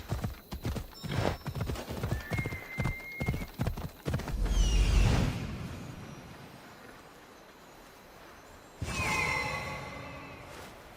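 Horse hooves clip-clop in a quick, steady rhythm as the horse is ridden in Assassin's Creed Odyssey, followed by a loud whinny, a whooshing gust, and then another neigh near the end.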